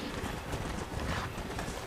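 A horse in the Red Dead Redemption video game clip-clops along a mountain path in a steady, even rhythm of hoofbeats, close and moderately loud, with no talk.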